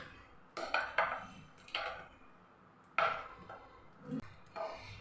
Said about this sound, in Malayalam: ഇതേപോലെ ഒന്ന് തവി വെച്ച് നമുക്കൊന്ന് മിക്സ് ചെയ്ത് തന്നിട്ട്